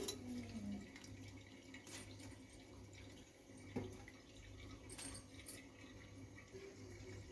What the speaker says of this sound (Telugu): ఈ ఉప్పు నీళ్ళలో మనము రొయ్యలను కడిగితే దీనికి ఉన్న నీసు వాసన అనేది వెళ్ళిపోతుంది